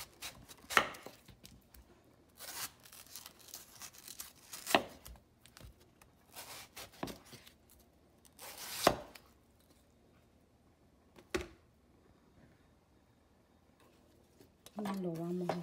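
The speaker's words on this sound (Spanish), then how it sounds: "Aquí vamos a estar partiendo el otro mango." A knife cuts through a mango on a board for pico de gallo. Quiet, irregular sharp chops and taps are spread out across the clip.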